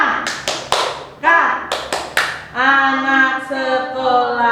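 Sunday school clapping chant for young children: a series of sharp, evenly spaced hand claps mixed with short chanted syllables, followed by a sustained sung line from a voice.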